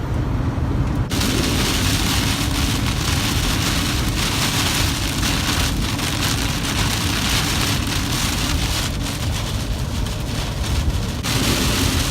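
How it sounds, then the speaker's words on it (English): Heavy rain drumming on an RV during a storm while driving, a dense, loud, unbroken wash of rain noise that stays steady throughout. "Scared in the storm. It was pretty bad back there."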